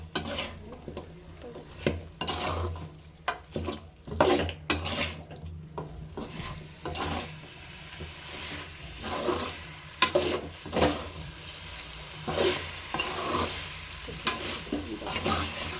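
Chicken curry scraped and stirred around a sizzling pan, irregular scrapes and knocks over a steady fry, close up with no talking.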